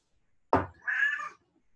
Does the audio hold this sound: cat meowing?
yes